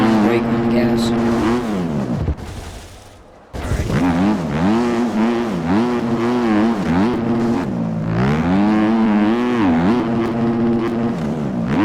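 Husqvarna dirt bike engine in the MX Bikes game, revving loudly and steadily with rising and falling pitch, a brief drop-off near the start, while someone talks over it.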